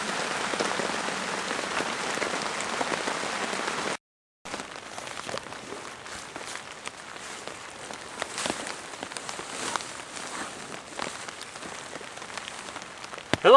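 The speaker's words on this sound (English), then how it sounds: "It is raining this butt off right now." Heavy rain pours down in the woods, a steady close hiss of drops pattering on leaves and surfaces. It cuts out briefly near four seconds, then returns slightly softer with sharper individual splats; no voices.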